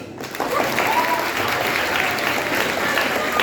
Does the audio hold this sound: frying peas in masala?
no